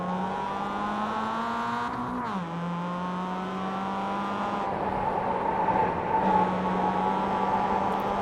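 Mazda MX-5 Cup race cars roar around a road course in onboard view, a loud sustained engine drone rising and dipping with shifts and corners, no talk over it.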